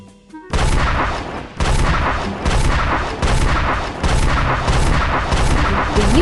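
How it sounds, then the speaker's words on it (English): A big bang explosion effect in an educational science game, sounding as a series of loud booming bursts, one after another, each about a second long. "The universe began in a big bang."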